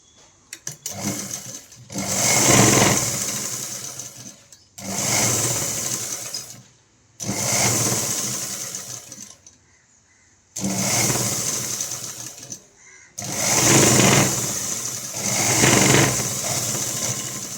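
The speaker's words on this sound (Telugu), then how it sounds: "ఈ మెయిన్ క్లాత్ని ఇలా పెట్టేసుకొని ఫస్ట్ అయితే ఇలా ఒక స్టిచ్చింగ్ వేసుకొని మెడనైతే తిరిగేస్తున్నాను" A sewing machine stitches around the neckline of a long umbrella frock in close, loud whirring bursts of about two to three seconds each, separated by short pauses, with no talking.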